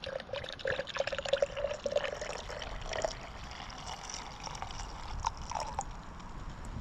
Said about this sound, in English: Here we go, we're filtering water.